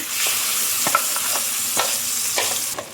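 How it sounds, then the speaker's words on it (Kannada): Ground masala frying in hot ghee over a low gas flame for prawn ghee roast, a steady close sizzle with a spoon scraping and stirring the pan at regular intervals. "ಈ ಮಸಾಲವನ್ನು ಇವಾಗ ತುಪ್ಪದೊಂದಿಗೆ ಚೆನ್ನಾಗಿ ಫ್ರೈ ಮಾಡಬೇಕು"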